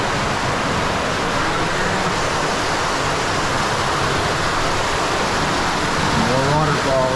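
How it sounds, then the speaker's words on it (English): Steady broadband rush of a waterfall inside an underground cave beneath a homeowner's backyard, constant and close, filling the space with no break. "More waterfalls."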